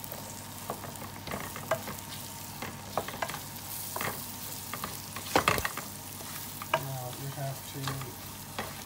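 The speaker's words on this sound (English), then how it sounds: "simmer it for a couple of minutes till the spice literally loses its raw flavor" Curry spices and onion cooking in a pot, giving a soft, quiet sizzle broken by scattered clinks and scrapes of a stirring spoon, with one louder knock partway through and a brief spoken phrase.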